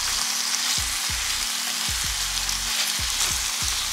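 Frozen noodles sizzle and fry in a hot pan, a steady close crackle running throughout with a few low knocks from the pan.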